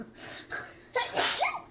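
A single sharp human sneeze, close and fairly loud, preceded by a quick inhale and followed by a brief gasping trail-off, in a quiet indoor room.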